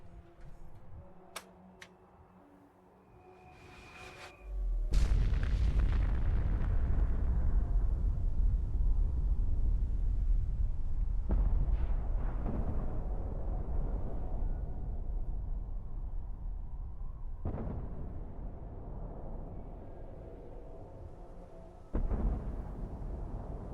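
A large explosion in the video game Fallout 4 bursts in after a few quiet clicks and ticks, then a loud, deep sustained roar and rumble slowly fades over many seconds, with a couple of later booming jolts.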